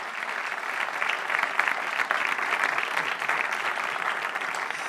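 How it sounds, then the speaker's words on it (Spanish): Steady congregation applause in a church service, a thick continuous roar of many hands clapping at moderate distance, with no voice rising above it. "Puedes darle un aplauso al Señor"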